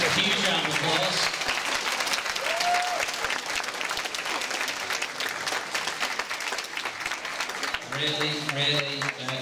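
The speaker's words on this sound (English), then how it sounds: "I think we should give both sides a huge round of applause" Audience applause fills the room after a student debate on the EU referendum, a steady dense clapping from many hands that runs throughout, with voices briefly rising over it near the end.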